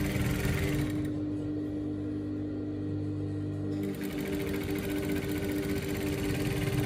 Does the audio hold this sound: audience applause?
no